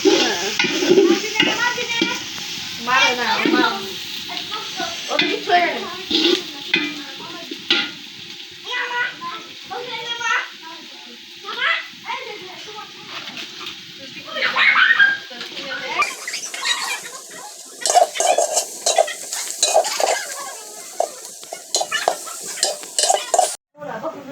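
Onions frying and being stirred in a pan for a duck curry, with steady sizzling and repeated scraping stir strokes close up, while people talk intermittently over the cooking.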